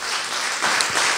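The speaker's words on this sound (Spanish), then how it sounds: "¿Cuánto le dan un aplauso a Cristo?" A church congregation breaks into applause at a Wednesday Bible study, a brief dense burst of clapping that swells slightly toward the end.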